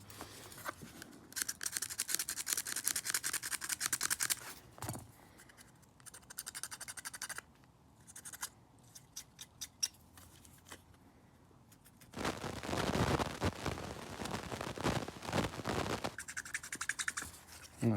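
Small screwdriver scraping a ground contact clean on an old electronic part, giving close, faint scratchy bursts in uneven spurts separated by quiet gaps and clicks.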